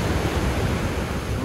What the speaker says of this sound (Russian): Море спокойное.